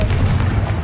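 A Confringo blast spell cast in Hogwarts Legacy, a loud booming explosive burst with a sustained rumbling roar filling the short moment, no voices over it.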